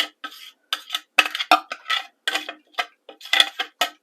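A spoon scrapes hamburger mixture out of a bowl, making a run of close, irregular clinking scrapes in short bursts with quiet gaps between them.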